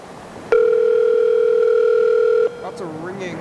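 A steady telephone dial tone sounds for about two seconds, clear and close, then stops as a voice begins speaking.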